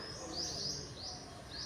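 Faint birds chirping in the distance, a few high repeated tweets over a steady background hum.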